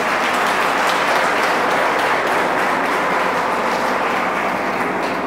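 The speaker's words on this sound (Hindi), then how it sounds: "why not to give a big round of applause?" Loud, continuous audience applause, a thick crackle of many hands clapping at once, holding steady from start to finish.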